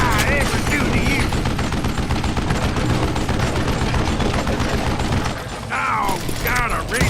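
Rapid revolver gunfire in the Western shooter game Call of Juarez: Gunslinger, a dense barrage of loud overlapping shots and booms with enemy shouts mixed in, briefly dropping before more yelling and firing resume.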